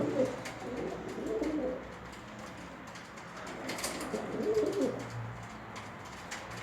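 Pigeons cooing during courtship between a male and a female, repeated low rolling coos in two main bursts over steady background noise, moderately close.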